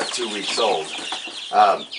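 Two-week-old baby chicks cluck and peep in a brooder, close and fairly loud, with several overlapping calls and two stronger bursts over a continuous background rustle.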